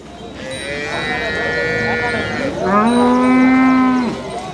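Two drawn-out cow moos in succession, close and loud, with livestock noise and faint voices in the background at the Sardarnagar cattle market.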